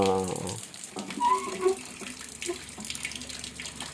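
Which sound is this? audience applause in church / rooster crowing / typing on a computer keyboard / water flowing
water flowing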